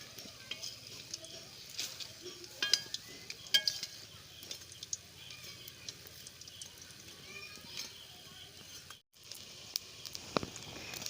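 Egg and potato snacks fry quietly in a pan, with a soft sizzle under repeated clinks and scrapes of a utensil as the pieces are flipped one by one.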